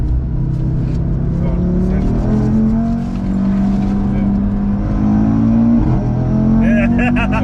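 An Audi RS3 laps the Nurburgring circuit, its engine droning loud and steady with rising and falling pitch through gear changes, and people chatting over the cabin noise throughout.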